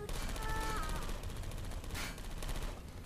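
Turret gunfire in Portal 2: a continuous, rapid, dense stream of shots from automated turrets that stays loud throughout with little letup.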